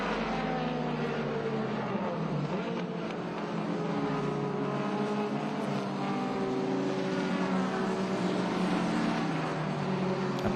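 Vintage BMW 2002 racing on the Portland track during an SVRA vintage race, a steady, fairly loud engine drone holding throughout with a constant broadband roar and no talk.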